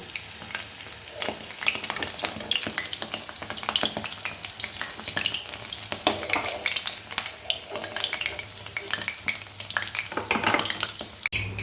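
Paneer kofta balls fry steadily in hot oil, a continuous close sizzle with crackling pops and occasional scraping of a utensil in the pan, no voices.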